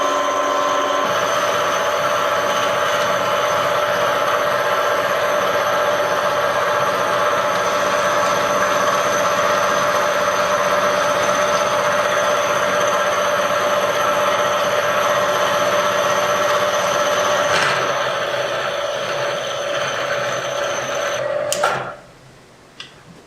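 A manual milling machine runs steadily through a final cut on squared stock, its tonal hum and whine holding even for about twenty seconds before winding down and stopping near the end.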